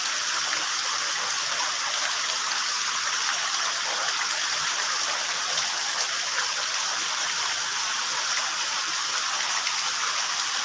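Steady, dense rushing of rain and flood water flowing near a submerged pond beside a house, a constant broadband wash with no breaks and no voices.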